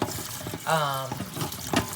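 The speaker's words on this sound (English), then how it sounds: "I'm just going to put these under cold water until they are ready to be held and touched" Cold tap water runs over freshly boiled hard-boiled eggs, making a steady splashing flow close by, with a voice speaking briefly over it.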